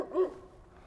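A dog outdoors on a winter walk in Seeley Lake, Montana, gives one short, close bark or yip that fades quickly.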